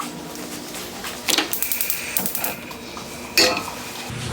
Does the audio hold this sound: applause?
no